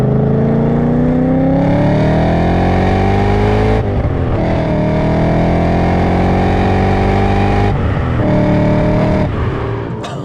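A BMW E39 M5 with a manual gearbox accelerates hard, its engine note climbing steadily through several gears with brief dips at each shift, loud and close throughout with no talking.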